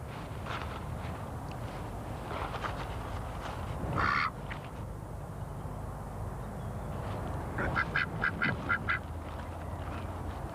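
A man imitates duck quacks and bird calls with his voice, giving a few short bursts and then a rapid series of quacks, moderately close over a steady outdoor hiss.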